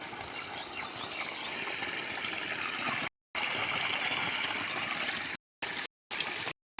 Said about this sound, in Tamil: தண்ணி போகிற சவுண்டு உங்களுக்கும் கேட்குதா